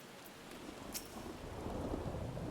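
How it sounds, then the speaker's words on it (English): Steady rain in the Final Fantasy XIV game world, a soft even hiss that swells slightly, with a faint rumble of thunder underneath and a brief brighter splash early on; no voices. "It's raining."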